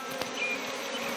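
Swarm of large, strong honeybees buzzing steadily and close while honeycomb is harvested, a dense continuous hum with no talk.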